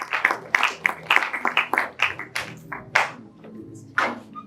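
An audience at a French-language book launch applauds with a run of sharp, irregular handclaps that thin out and fade, then a final few claps near the end.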